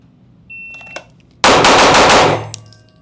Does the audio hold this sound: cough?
no